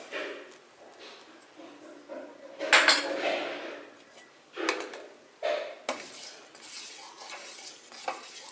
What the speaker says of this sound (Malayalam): നമ്മൾ വീണ്ടും ഇത് ഇളക്കി കൊടുക്കണം.